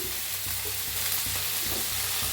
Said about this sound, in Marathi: कांदा बघा हलका भाजला आहे त्याच्यात टाकूया टमाटर काजू अद्रक लसूण